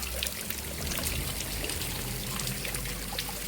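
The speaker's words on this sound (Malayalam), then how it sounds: "അപ്പോൾ ഈ മലയുടെ വെള്ളം കുടിച്ച് നോക്കാം." Cold spring water flows steadily in the Nelliyampathy hills of Palakkad, a close, continuous trickling pour with no voices.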